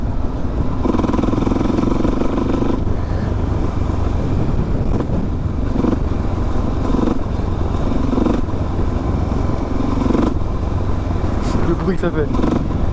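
A Suzuki DRZ 400 motorcycle engine runs steadily nearby, a constant rough rumble with a few light rises and clatters, and no talking.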